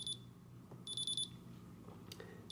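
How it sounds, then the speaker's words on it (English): A Futaba T14SG radio transmitter sounds its throttle stick alarm in short, high electronic beeps: a brief burst, then a longer run of rapid pulses, with faint handling noise and a low hum between them. "a beep whenever a given stick, in our case the throttle, is in a given position"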